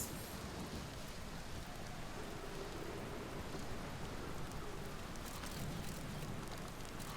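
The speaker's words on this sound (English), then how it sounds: "It's raining." Steady rain falling across the whole stretch in the video game Outer Wilds, a dense, even hiss with no breaks, moderately loud and alone, with no voices.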